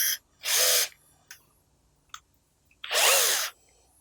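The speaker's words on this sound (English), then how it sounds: "go ahead and drill all the way into the dead wood." Two short, loud whirring bursts of a power drill boring into the dead wood of a bonsai, separated by a pause with faint clicks and handling sounds.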